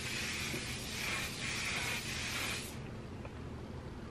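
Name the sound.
spray bottle misting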